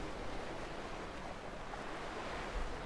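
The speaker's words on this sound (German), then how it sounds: "Ich find das total beruhigend, die Wellen im Hintergrund zu hören." Soft ocean surf from the video game Dear Esther washes continuously in the background, a gentle steady rush of waves with no voices.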